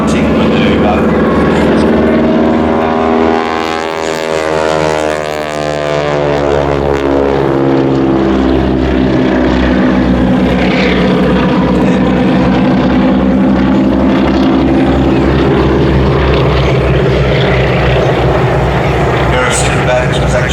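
Propeller-driven aerobatic plane flying a bunting manoeuvre at the Midland Air Festival air show, a loud sustained engine drone sweeping up and down in pitch as it passes, steady throughout the clip.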